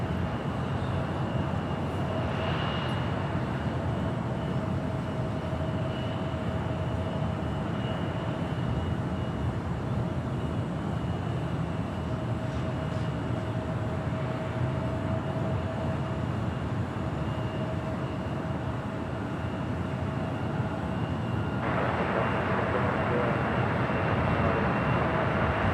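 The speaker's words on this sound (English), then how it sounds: "It's a 787-9 Dreamliner, followed by American Airlines Flight 26 coming in from Tokyo Haneda on a 787-8 Dreamliner." Boeing 787 Dreamliner jet airliners arrive at Los Angeles airport, a steady, loud, continuous engine roar with a faint whine running throughout, the broad rush intensifying slightly near the end as an aircraft passes closer.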